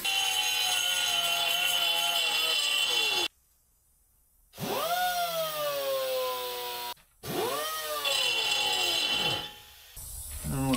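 An air-powered tool on pipes whines loudly, spinning up and winding down in several bursts separated by short silences, its pitch rising and falling with each run.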